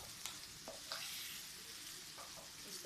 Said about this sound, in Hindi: और हम इसको अच्छे से भून लेंगे।